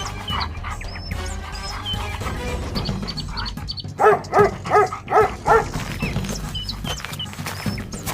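A trained dog gives a quick run of about five sharp barks, evenly spaced and fairly close, over a busy background of music and ambient noise.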